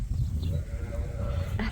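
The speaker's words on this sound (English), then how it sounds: "here comes a bunch of sheep that were at pasture. Some Dorsets, a little crew of them were out there" A small group of Dorset sheep heading back from pasture, with a single nearby bleat rising out of a low, rumbling outdoor background of shuffling livestock.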